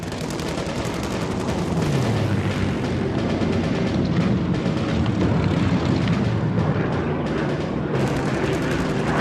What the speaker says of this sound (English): From a perfect attack position, the Spitfires strike, diving out of the sun.